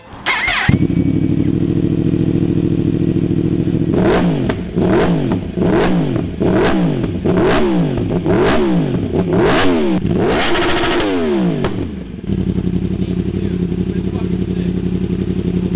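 A Yamaha R1 motorcycle with an aftermarket exhaust idles, then blips through a string of sharp revs that rise and fall, building to a longer high rev before settling back to a steady idle, loud and close.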